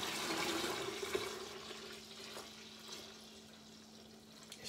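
Cold water is poured into a warm batch of caramelised honey mead, a soft splashing rush that is strongest at first and then tapers to a faint trickle.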